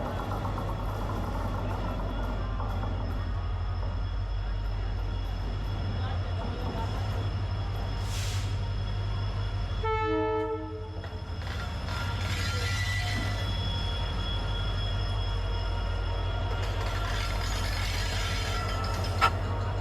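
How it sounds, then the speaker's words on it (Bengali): Falaknuma Express 12703 pulling into a crowded station platform, a steady low rumble of the train dominating throughout, with a horn-like tonal burst midway and platform noise around it. "বেশ খানিকটা দূরে ট্রেনের মুখ দেখা গেল। ট্রেন ঢুকছে।"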